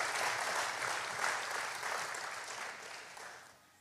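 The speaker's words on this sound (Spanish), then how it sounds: "Dale un aplauso al Señor." A church congregation claps together in praise during a bilingual sermon, a dense, steady wash of applause that stays loud and then thins out toward the end.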